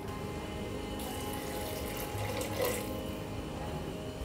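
Hot water is poured over rice in a pressure cooker for a one-pot veg pulao, a continuous close gurgling pour at a steady level throughout, with no voices.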